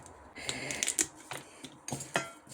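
A knife slicing through an eggplant on a cutting board makes a quick series of sharp, light taps and clicks, close and fairly quiet, with a short pause between two bursts of cuts.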